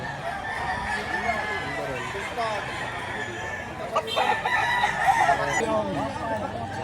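Roosters crow repeatedly at a busy poultry market in Lipa, Batangas, their calls overlapping and drawn out against a steady background of clucking fowl and crowd chatter.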